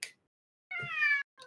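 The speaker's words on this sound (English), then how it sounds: "cat" A cat meows loudly and close by, one drawn-out tonal call followed by the start of another, with a short clipped sound just before and silence between.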